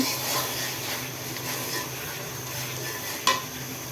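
Spice masala being stir-fried in a pan with a little oil, giving a steady close sizzle and scraping stir throughout, with one sharp utensil knock near the end.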